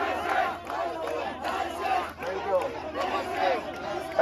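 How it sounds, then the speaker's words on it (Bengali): A street crowd on a political election procession chants slogans together in loud, rhythmic bursts, with shouting voices close by and a dense crowd roar underneath. "ওনাদেরকে সুন্দর করে মিছিল করতে দেন, সবাইকে মিছিল করতে দেন।"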